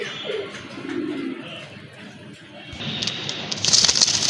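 Male pigeon cooing among other caged pigeons, low murmuring coos repeating over steady background noise, with brighter bird calls and rustling rising near the end.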